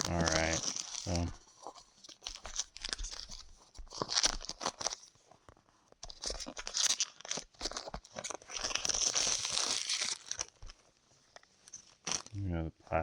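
Plastic packaging around Pico trackers crinkles and tears loudly in close bursts during unboxing, with pauses between handling.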